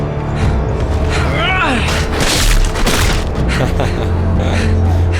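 Gunfire and loud booms ring out during a tense execution scene in the Game of Thrones Telltale video game, the blasts sustained and heavy under excited game dialogue and shouting.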